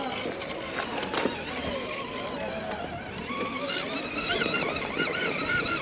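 Small RC rock crawler at a Utah crawling competition run, its electric motor whirring under throttle with faint grinding and scraping over rock, steady at moderate level throughout.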